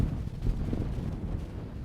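Wind buffets the microphone on a coastal golf course, a continuous low rumbling gust that swells briefly near the start and then stays steady and fairly quiet.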